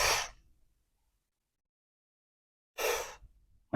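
A man imitates laboured breathing with two short, loud, forceful breaths, separated by about two seconds of silence.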